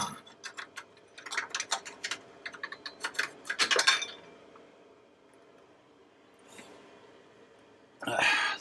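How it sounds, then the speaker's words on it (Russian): Bolts are being loosened while the engine is removed from a Sprinter van. Quick ratcheting clicks come in close bursts, followed by quieter pauses and a final burst of metallic rattling. "Откручиваем потихоньку все болты."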